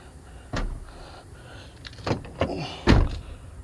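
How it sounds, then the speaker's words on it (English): A Ford Transit van's sliding door slides and shuts with a few clunks, ending in one solid thump near the end. "You close the door."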